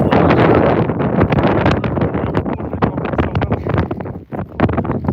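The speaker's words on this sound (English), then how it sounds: "It's windy." Constant wind rumbles and crackles against the microphone in close, loud bursts throughout, with a brief dip near the end; no speech.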